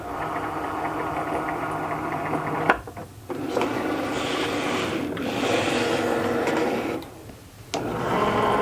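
A Cricut 3 cutting machine pulls in a sheet of thick holographic vinyl with no mat, giving a steady mechanical motor whir with two short pauses and clicks as the feed stops and restarts, close and alone.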